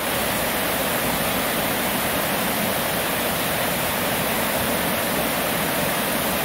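Dense, continuous rush of stream water layered from several recordings into one broad wash, loud and steady like a waterfall with no breaks and no voices.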